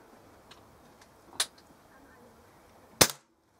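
Two sharp, brief cracks from an SMK XS38 air rifle firing at 5 mm sticker targets 46 feet away, a softer shot near the start and a louder one toward the end, over quiet background.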